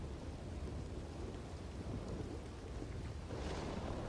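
A thunderstorm in the video game Red Dead Redemption 2 Online: steady rain hiss with a low, continuous thunder rumble, faint and even throughout, no voices.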